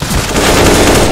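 A loud, close burst of rapid automatic gunfire in a Counter-Strike match, continuous and dense for about a second.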